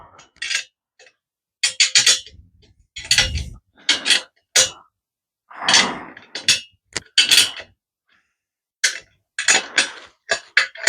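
Screws being tightened on an Autobest engine mount: a series of short metallic clicks and ratcheting bursts separated by silent gaps, close and fairly loud.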